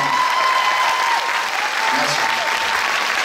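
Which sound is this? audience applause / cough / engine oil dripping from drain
audience applause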